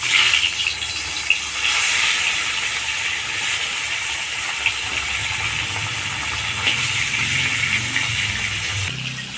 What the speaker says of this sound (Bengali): বাকি মাছটা আমি এইভাবে ভেজে নেব।